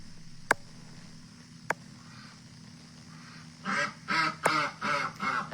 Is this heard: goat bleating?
no